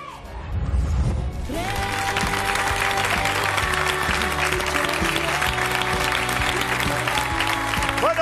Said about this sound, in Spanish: un fuerte aplauso para Lorea.